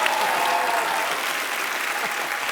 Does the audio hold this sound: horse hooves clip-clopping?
no